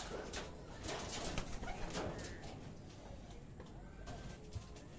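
A racing pigeon coos softly at its loft after returning from a 552 km derby race, the low murmuring calls repeating under steady outdoor background noise and faint voices.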